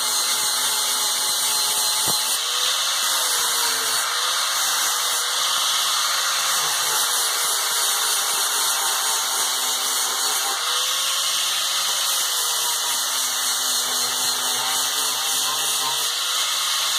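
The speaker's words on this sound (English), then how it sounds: "Now I'm just gonna shine it up a little." A power tool polishes up a finished house number plaque, a continuous steady whine running close and loud throughout with slight pitch shifts as the load changes, no talk over it.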